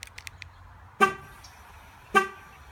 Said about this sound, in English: Honks twice, and she starts up.